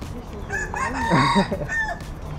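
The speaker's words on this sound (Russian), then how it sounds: "Я стою на земле, а надо мной петух." A rooster crows once nearby, a loud rising and falling cock-a-doodle-doo over faint background clucking, on a hill in Pattaya, Thailand.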